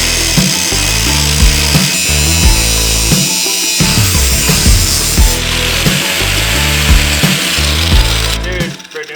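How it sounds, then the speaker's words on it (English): An angle grinder cutting pie cuts into a metal exhaust pipe for a Honda Civic, a loud, close, continuous grinding whine that shifts pitch as the cuts progress and cuts out at the end. "So I have to make all the pie cuts with an angle grinder."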